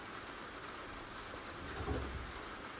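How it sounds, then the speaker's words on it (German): Rain falls on an outdoor terrace as a faint, even hiss of steady drizzle, continuous and calm, with a slight swell near the end and no voices. "Es regnet."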